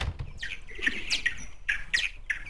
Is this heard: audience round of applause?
no